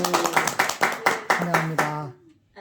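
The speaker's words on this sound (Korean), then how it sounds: "네, 반갑습니다. 박수." An audience at a village community network meeting in Sudong-myeon, Namyangju claps in quick, rhythmic bursts. Voices talk over the claps, which fade out at the end.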